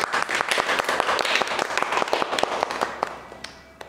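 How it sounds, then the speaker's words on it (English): Participants in a group discussion clap for themselves, a small group's distinct, uneven claps close by, tapering off toward the end. "Clap for yourself."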